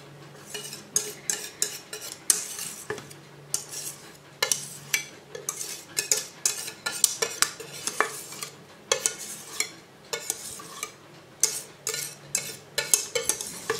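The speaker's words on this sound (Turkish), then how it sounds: "Pişen pudingimi elmaların üzerine döküyorum." Cooked vanilla pudding poured and spread over sliced apples in a dish, with repeated soft scraping and tapping of a spoon or spatula against the dish in an irregular rhythm.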